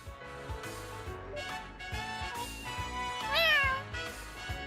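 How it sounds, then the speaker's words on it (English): A cat in the video game Trails to Azure meows repeatedly, its cries rising and bending in pitch, with the loudest meow near the end, over rhythmic game music and with no talking. "Oh, the kitty."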